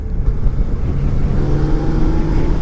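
A 2019 Yamaha Niken motorcycle pulls in sixth gear, its engine a loud, steady, close drone with a rough low rumble, swelling slightly as it accelerates.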